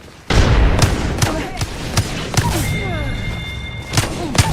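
A grenade exploding in a video game, a sudden loud thump followed by further scattered thuds and impacts while game voices and effects sound around it.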